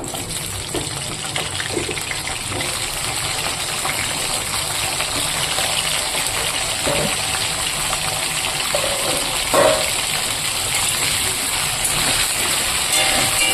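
Cauliflower frying in a pan of hot oil, a steady, close, continuous sizzle throughout with occasional small pops.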